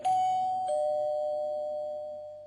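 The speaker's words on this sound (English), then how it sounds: "He went to Al's apartment and rang the doorbell." An apartment doorbell rings with a clear two-tone ding-dong, loud and close, the second tone ringing out slowly with no voices.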